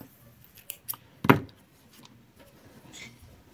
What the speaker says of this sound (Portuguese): Uma corrente e pode cortar o fio.